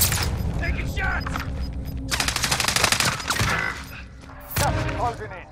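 Video game gunfire, volleys of shots and heavy booms with mechanical clatter and a shattering hit, loud and dense, with a voice speaking briefly between bursts.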